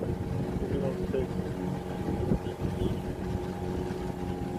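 A big motorboat passes close to a small sailing boat out on the water, its engine a steady low drone under wind noise, and a voice speaks over it.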